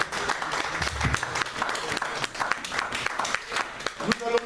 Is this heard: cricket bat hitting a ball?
no